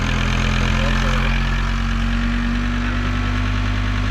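The engine of a Volkswagen LT-35 van runs loudly and close after being started, idling with a steady low rumble and a faint knocking vibration throughout, with no talk over it.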